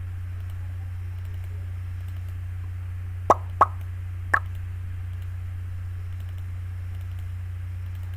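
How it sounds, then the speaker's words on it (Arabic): A motion graphics sound effect for moving an icon: three short, crisp plops or ticks in quick succession over a steady low hum, with silence around them. "وعندنا برضه الصوت برضه جميل جدا، صوت نقل ايقونة"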